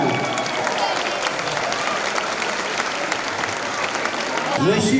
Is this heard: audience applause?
yes